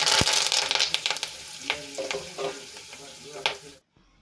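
Hot oil sizzles in a pan as tempering spices crackle, here cumin, curry leaves, dried red chillies, bay leaf, cinnamon and cloves. The sound is loud at first, with sharp pops and spatula scrapes, then fades to silence.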